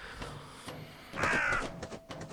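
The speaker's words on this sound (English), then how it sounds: "Hello, what's up, bird?" A single crow caws loud and fairly near for about half a second, outdoors at the foot of a radio tower, with faint background hiss before and after.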